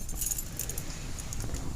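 Keys jangle in bright metallic bursts near a car in the rain, several quick shakes clustered close together, loud and near, with no speech.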